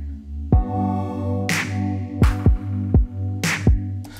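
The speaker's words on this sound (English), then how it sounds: "And then a snap to kind of layer on top of the snare." A snap layered over the snare in a hip-hop beat, with sharp broadband cracks landing on the backbeats above steady deep kicks and a sustained low synth bed, several hits across the bar.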